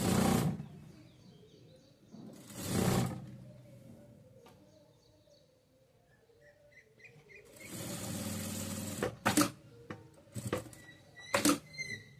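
A sewing machine stitching a child's top runs in short bursts of whirring, separated by quiet gaps, with a few sharp clicks and squeaks near the end, heard close and with no talk.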